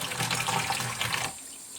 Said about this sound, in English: I'm going to pour a jug of water just to